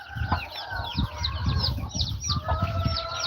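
Farm hens clucking repeatedly in short irregular bursts, with several birds calling over one another at moderate distance under low background rumble.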